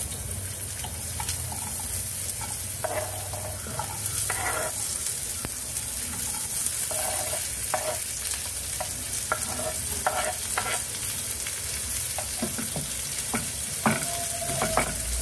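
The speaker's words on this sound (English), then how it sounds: "let us add the onions." Onions sautéing in a pan with a continuous, even sizzle and occasional stirring scrapes, close and steady throughout, with no talking.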